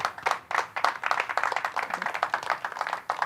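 Scattered clapping from a small group during a virtual fundraising event, a light patter of hand claps that rises and falls in uneven bursts with no voices over it.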